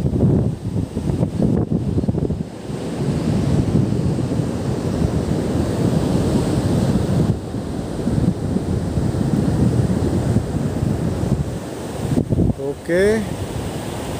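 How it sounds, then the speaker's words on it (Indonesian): Ocean surf breaking on a hot sunny beach at Panggul, where people haul a fishing net. Waves roar loud and continuously with heavy wind buffeting the microphone, and a voice speaks briefly near the end. "Wah, masya Allah teman-teman ombaknya."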